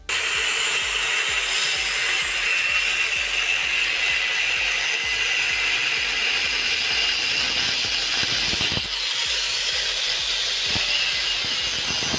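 An old Splendor motorcycle silencer is being cut with a loud, continuous, harsh hissing and grinding at close range, with a brief shift in tone partway through and no speech.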